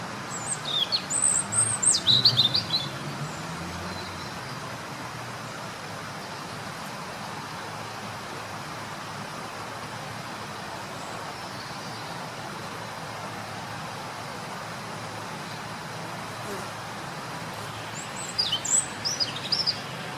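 A songbird in Barcelona's Diagonal Mar park trills high, rapid chirping phrases in a burst near the start and again near the end, over a constant low hum of distant traffic, with no voices.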